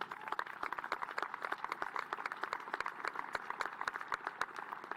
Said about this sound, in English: Y'all are clapping, but that's just the warm-up.